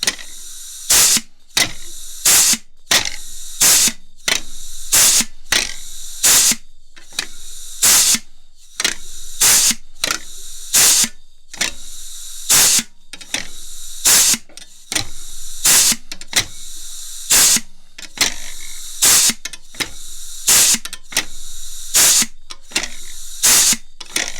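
A Chicago Pneumatic rivet squeezer squeezing aluminum fires again and again, each stroke a sharp, loud pneumatic air burst in a steady, fast rhythm, up close and with no voices.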